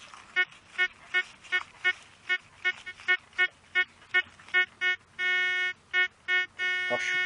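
Metal detector (TS 160) signalling over a bottle cap outdoors: a rapid series of short, evenly spaced electronic beeps, then a couple of longer sustained tones, loud and close with no talking.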